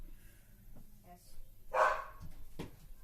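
Dogs bark indoors at dinner time, two short sharp barks under a murmur of people talking in the room.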